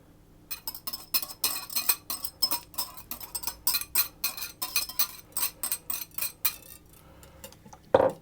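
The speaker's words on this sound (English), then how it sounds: "So then I'm going to put my chives in and the leeks." Chives and leeks being mixed into a cheese, ham and egg breakfast muffin batter, with a utensil repeatedly clinking and scraping against a bowl in quick irregular strokes, close and alone.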